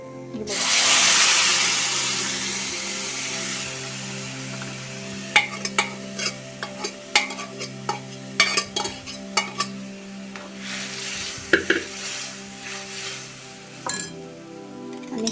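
Boiled moth beans for misal pav hit a hot pan with a loud hissing burst of sizzle, then the sizzle dies down to a simmer under repeated scraping and clinking as a spoon stirs against the metal.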